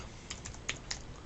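A few sharp, faint clicks of computer keyboard keys, including the caps lock key, pressed at an uneven pace while a formula is entered in an Excel spreadsheet, with no talking.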